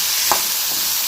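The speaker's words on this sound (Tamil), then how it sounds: "இப்போ இதையும் சேர்த்து நல்லா வதக்கி வச்சுக்கணும்" Carrot and potato stir-fry sautéing in a pan with curry leaves, a steady broadband sizzle with a single spatula scrape partway through, close and continuous with no voices.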